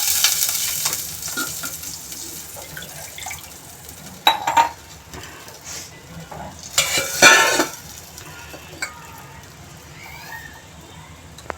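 Hot tempering oil for handvo, with whole red chillies and asafoetida, sizzles steadily, then erupts into loud hissing bursts as water is poured in, with a few clinks of utensils.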